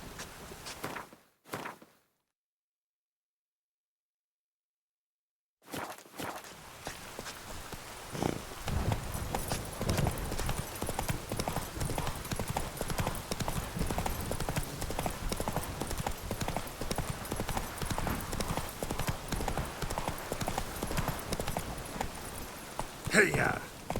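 The horse Roach in The Witcher 3 walking, hooves clip-clopping in a steady close rhythm after a brief silent gap, with a voice heard faintly near the start.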